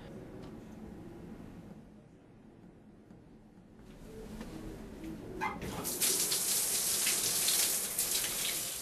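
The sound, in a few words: shower water running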